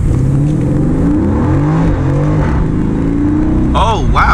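An Aston Martin Vantage pulls hard in first gear, its engine note climbing loud and close before an automatic upshift, with a brief rising whine near the end.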